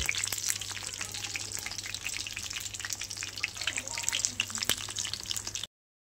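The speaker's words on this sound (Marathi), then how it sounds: "2 मक्के घेतलेले होते मी आणि त्यांना आपण फ्राय करायला ठेवले" Corn cobs frying in hot oil: steady, close sizzling and crackling with scattered pops, continuous throughout before cutting off at the end.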